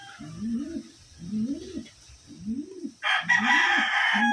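A Wantai bird, a 2023 NHRP-banded hen, gives four close, low, rising calls at an even pace about a second apart. A bright hiss comes in partway through under the last calls.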